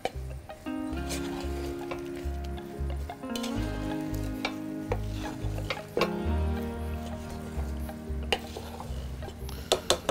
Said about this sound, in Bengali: এখন এই ফোড়ন দিয়ে ভুনা খিচুড়িটাকে ভালো করে মিশিয়ে নিব আমরা।